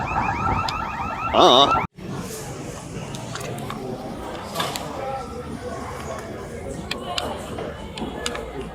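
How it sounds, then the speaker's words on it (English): An electronic store alarm sounds in a warbling, repeating pattern for a couple of seconds, then cuts off; after that, indistinct crowd chatter and store noise continue. "that's the store alarm going off, actually"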